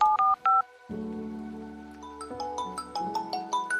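A phone number being dialed: a few quick keypad beeps, a short pause, then a longer run of sharp touch-tone presses in an uneven rhythm, close and clear.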